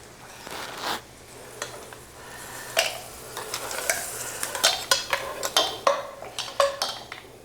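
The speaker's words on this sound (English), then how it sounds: "I'm going to add this seafood right into our vessel that we're plating into" Seafood for cioppino is spooned into a serving pot, giving repeated sharp clinks and scrapes of utensil on metal along with wet shuffling. The clatter grows busier and more rhythmic toward the end.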